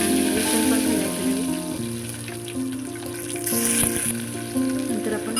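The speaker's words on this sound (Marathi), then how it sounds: "तर आपण फोडणी घालणार आहोत. मोहरी, जिरे, कढीपत्ता आणि लसूण पण घालायचं." Mustard seeds, cumin, curry leaves and garlic sizzle in hot oil as a tempering for dal, a continuous close crackling fry with light stirring throughout.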